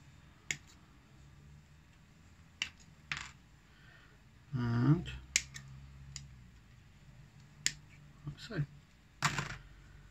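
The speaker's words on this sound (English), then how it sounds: "So we're just going to literally snip all these bits off," Hobby clippers snip plastic model parts off the sprue for a Terminator build kit, giving a handful of sharp, isolated clicks spread irregularly across a quiet room with a brief rustle of handling in the middle.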